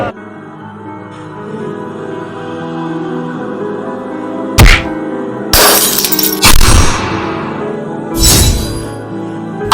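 Glass shatters in several loud, sharp crashes over a few seconds, standing out clearly above a soft background.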